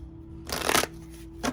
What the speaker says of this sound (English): I want to shuffle this deck again.